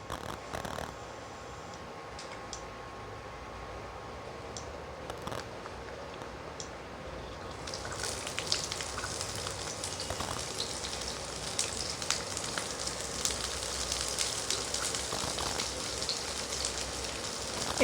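Chopped onions hit hot mutton fat for chana masala, and a steady crackling sizzle swells up after a quiet start, then holds loud and close to the end with no talking.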